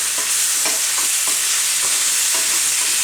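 Potatoes and onions sauté in a pan with a bright, steady sizzle, while a utensil stirs them in a quick series of soft scrapes and clicks.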